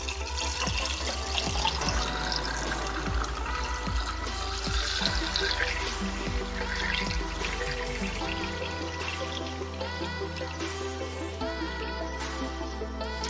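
Water pours steadily into a BMW's coolant system while it is refilled after a thermostat change, a continuous gurgling, splashing flow that stays close and fairly loud throughout.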